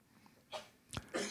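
A single sneeze from someone at an indoor library award ceremony, a short sharp burst after a faint intake, followed by a brief trailing sound, close and moderately loud against a quiet room.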